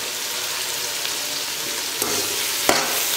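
Tomatoes sizzle and fry in a large pot while being sautéed for a big batch of fish curry (meen kulambu), a loud, steady hiss with a couple of brief stirring clunks.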